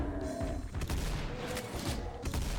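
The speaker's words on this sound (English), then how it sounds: "I should stop using the flat cannon at long range." Flak cannon in a Doom mod video game, firing several loud, sharp bursts at uneven intervals over rumbling, noisy game action.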